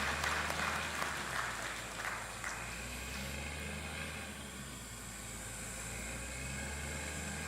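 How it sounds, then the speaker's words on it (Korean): Congregation applauding during a church service, a steady, fairly faint wash of clapping with a low hum underneath, continuing throughout. "감사의 박수로 영광 드리겠습니다"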